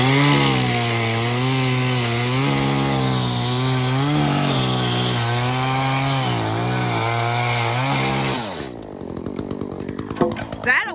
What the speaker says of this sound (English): So we're going to cut them with the chainsaw.